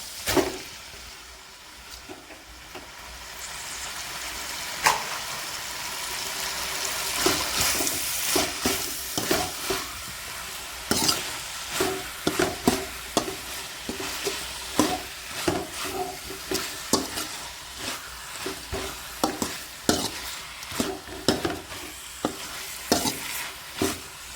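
Mutton frying in ginger garlic paste, with a steady sizzle and a run of sharp scraping clacks from a spoon stirring the pan, close and clear with no voices.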